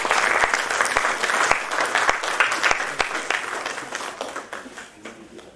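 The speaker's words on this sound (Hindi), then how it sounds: "तालियों के साथ स्वागत गुरु जी का।" Audience applause welcoming a guru at a family gathering, a steady burst of many hands clapping that holds fairly loud throughout and tapers slightly toward the end.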